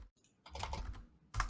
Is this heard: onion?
no